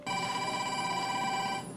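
A telephone bell rings steadily for under two seconds, loud and close, alone with no talking over it.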